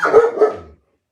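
A dog indoors barks at people talking near the entranceway, two loud, close barks in quick succession that trail off into silence.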